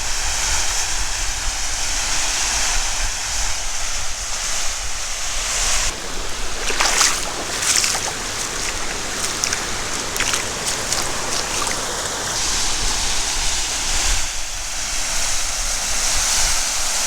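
Rushing water from a waterfall at Toquerville Falls near Zion makes a steady, loud roar with a constant broadband wash of spray, plus a few brief scuffs and knocks nearby.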